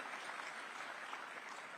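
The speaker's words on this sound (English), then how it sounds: "So we can have a round of applause for that." Audience applause at a summit in India, a brief, even burst of many people clapping together at moderate distance, with no voices over it.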